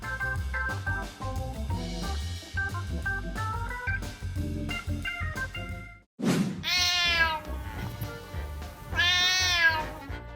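A cat meows loudly in protest, two drawn-out, wavering cries close by after a stretch of music, with a brief thump between them.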